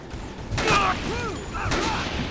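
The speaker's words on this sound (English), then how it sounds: "They're just annoying with those sniper rifles." Sniper rifle fire from enemies in Dead Rising Remastered, a couple of sharp game gunshots with ringing tails over a steady game soundtrack.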